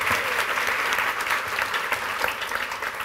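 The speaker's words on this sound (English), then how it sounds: "Big round of applause." Steady, full applause from a game show audience on the Capital One Mr and Mrs Show, a dense continuous roar of clapping without a break.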